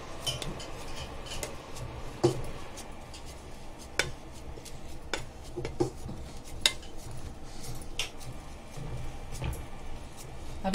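A flat metal pan is turned and handled while coconut burfi is being made in a home kitchen, giving a steady run of clinking, scraping metallic taps and knocks at close range with no talk.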